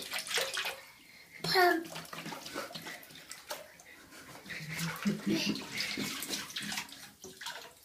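Water splashes and runs in a bathtub while a small child is being washed, with a voice and an adult's talk heard over the sloshing, and a faint dog bark at one point.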